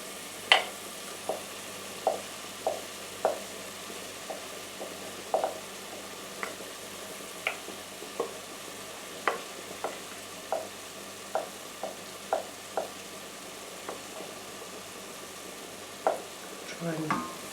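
Basmati rice being stirred in a pan, with regular scraping strokes of a utensil repeating roughly every second over a faint, steady sizzle, close and quiet.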